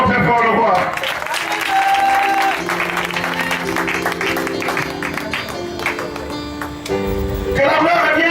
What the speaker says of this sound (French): Acclamons très fort le roi